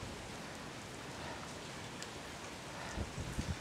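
Rain falls steadily during a super typhoon in Japan, a soft, even hiss of drops on surfaces heard from outdoors at low level, with a few louder spatters near the end and no voices.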